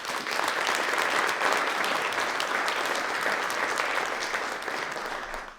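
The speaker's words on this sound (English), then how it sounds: "can we give them a round of applause?" A crowd claps at a university alumni awards ceremony, steady and full for about five seconds before tapering off quickly at the end.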